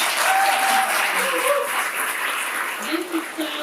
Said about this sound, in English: Can we just clap it up?